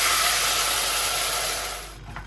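Water poured into a cooking tomato and turmeric mixture makes a loud, steady hiss and rush that fades away near the end.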